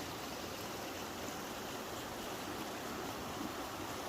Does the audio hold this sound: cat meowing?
no